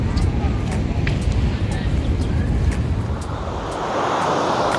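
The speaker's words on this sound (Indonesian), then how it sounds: "Kayaknya si ombaknya mungkin lagi gede jadi narik ke pasir" Surf breaking on a sandy beach at Karang Potong, Cianjur, with big waves dragging back over the sand: a steady, loud wash of rolling water blended with wind buffeting the microphone throughout.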